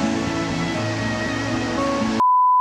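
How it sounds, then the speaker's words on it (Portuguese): Steady broadband rush of a waterfall at Carrancas, Minas Gerais, continuous and fairly loud for about two seconds before cutting to a steady tone. "Cara, gostamos muito dessa cachoeira."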